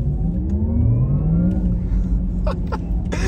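An electric Porsche Taycan Turbo S accelerates on the road with a rising whirring motor tone that climbs smoothly in pitch, loud and close.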